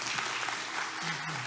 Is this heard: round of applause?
yes